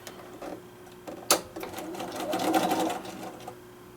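Sewing machine stitching through a foundation-pieced quilt block, a close mechanical whirr with a brief sharp knock early on, then a steady run that swells slightly toward the end.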